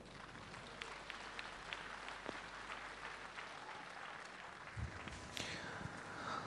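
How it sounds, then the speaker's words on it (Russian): A fight-event audience applauds to greet the fighters, steady crowd clapping heard from some distance throughout, fairly quiet overall, with a few louder thumps near the end. "Дамы и господа, как всегда, аплодисментами приветствуем бойцов."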